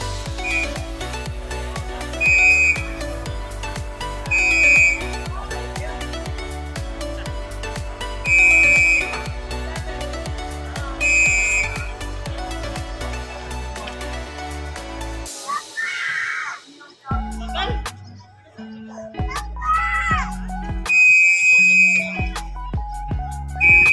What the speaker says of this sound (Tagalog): Yun ha, sumisipol.